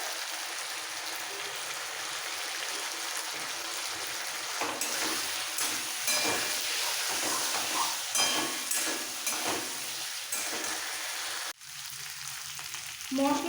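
Potatoes sautéing with turmeric powder in a pan for a radish ghonto, giving a steady close sizzle with scattered stirring scrapes and clinks, then a brief quieter pause before the frying resumes.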